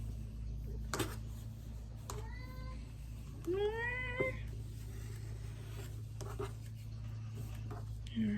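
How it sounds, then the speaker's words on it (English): A cat meows several times at close range, short rising-and-falling calls spaced a second or so apart over a steady low hum, with faint handling noises between them. "He's a talkingest cat."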